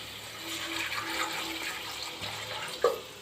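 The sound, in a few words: water poured into chicken curry pot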